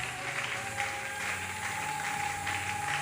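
A church congregation at an Easter Sunday service claps and cheers together, steady dense applause sustained throughout with a faint tonal hum in the background.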